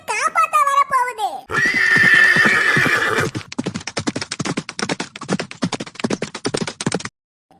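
A cartoon horse, the steed of a deity, lets out a high wavering neigh, then a bright burst, followed by a rapid run of clip-clopping hooves that stops abruptly, heard alone and fairly loud.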